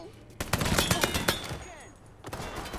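Rapid gunfire during a shootout in the Mafia III video game, a tight burst of loud shots in the first second followed by a lull and another short volley near the end.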